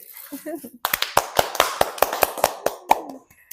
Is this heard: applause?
yes